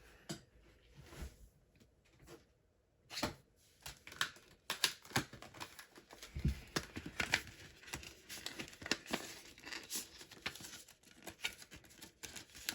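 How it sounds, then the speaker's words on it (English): Stampin' Up! kangaroo shapes being die-cut in a crafting die-cut machine, with close, irregular clicks, taps and rustling handling noises, growing busier midway, no talking. "So now we're going to go ahead and die cut our kangaroos."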